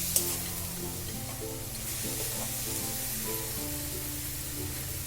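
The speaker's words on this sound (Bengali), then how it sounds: "এবার এতে আমি দিয়ে দেবো টুকরো করে রাখা টমেটো, দিয়ে একটু মিশিয়ে নিলাম।" Chopped tomatoes are stirred into a frying ginger-garlic masala for an egg curry, with a steady close sizzle and intermittent scraping of the spoon against the pan, no talk.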